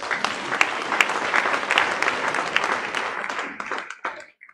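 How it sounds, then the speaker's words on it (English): An audience applauds Professor Udoka, an alumnus of the University of Uyo: steady, dense clapping from a crowd that tapers off and stops near the end. "How about that for applause?"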